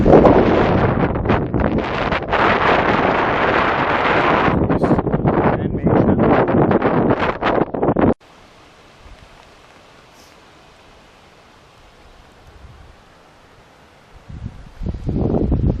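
Strong wind roars and buffets the microphone while packrafting across open water with whitecaps in the Avalon Wilderness Reserve. The gusts hold steady and loud for about eight seconds, drop to a faint hush, then rise again near the end.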